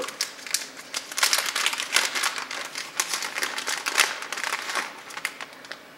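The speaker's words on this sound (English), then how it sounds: "So let's go ahead and open it up. And it's in a little Ziploc bag" Crinkly plastic rustling from a small Ziploc bag being opened to get at a GoPro frame, a steady run of close, sharp crackles over about six seconds, with no talking.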